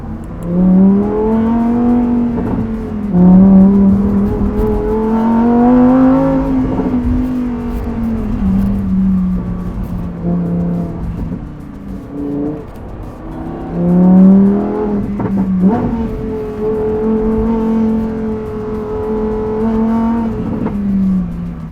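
Lamborghini Huracán Tecnica sports car engine accelerating on the road, loud and close, with rising and falling revs through several gear changes and sustained harmonic roar for the whole stretch.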